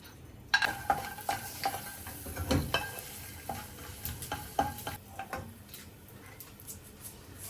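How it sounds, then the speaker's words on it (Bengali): Raw peanuts fry quietly in hot oil in a pan, with a soft steady sizzle broken by scattered clicks and scrapes from stirring. No one speaks. "তো তেল দিয়ে দিলাম দিয়ে দিলাম কাঁচা বাদাম"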